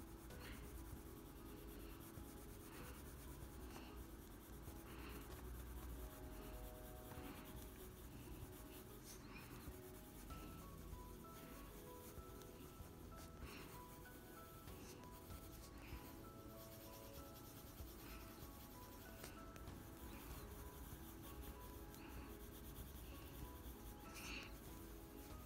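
A Caput Mortem Violet colored pencil scratches and rubs across paper while coloring mushroom tops, a soft, steady rasp of repeated short strokes, close and quiet.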